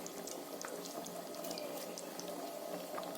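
Rohu fish curry bubbling at a steady simmer in a pot, a soft continuous burble with small pops, fairly faint and close, no talking.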